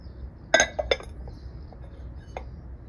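Antique china dishes clinking as they are handled: a few bright, sharp porcelain taps close together, then a couple of fainter clinks, over a quiet room background with no talking.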